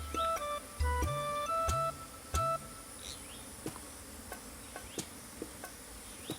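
A steady honeybee buzz hums throughout around a catcher box, with a few faint tonal beeps and light ticks early on; no voices.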